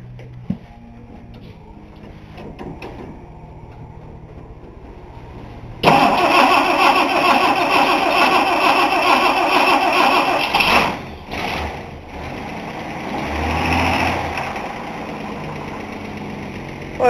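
A 1960 Dodge Dart cranks and fires up, a quiet rumble before a sudden loud catch, then a steady close idle with a brief dip and rev before settling.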